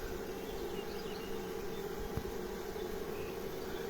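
Honey bees swarm around a baited hive outdoors, a steady, low buzzing hum that carries evenly throughout, with one brief soft knock partway through.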